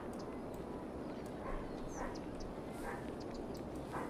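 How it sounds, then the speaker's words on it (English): A dog in the Cities: Skylines Industries city-building game barks and yips in short bursts in the background, beneath a steady wash of ambient city noise. "And the dog is in the background now making a sound noise."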